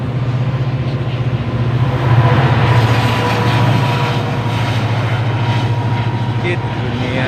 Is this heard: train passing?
yes